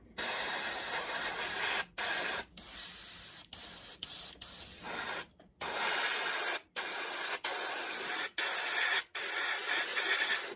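An airbrush sprays paint onto the windowsills of a model railway building in short hissing bursts, about a dozen close, loud spurts separated by brief silences.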